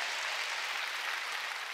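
Church audience at a New Year's Eve worship service clapping steadily and loudly, a dense continuous wash of hand claps with no talk over it.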